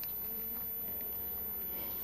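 Honey bees hum in a steady, even drone around an opened beehive, continuous and fairly close with no voices.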